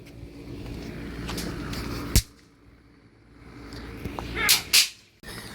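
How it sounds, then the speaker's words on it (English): Bang snap fireworks crack outdoors in a few sharp pops: one clear snap, then after a quiet gap a quick pair of snaps close together. "And now, the bang snap."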